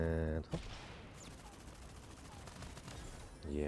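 Rapid video-game gunfire from Super Mecha Champions, a dense steady burst of shots lasting several seconds at moderate level, with a harmonic tone before and after.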